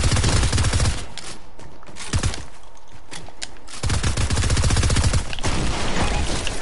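Rapid bursts of automatic gunfire from a gun in Fortnite, loud and dense, with a dense stretch of shots, a short lull with scattered shots, then another long sustained volley.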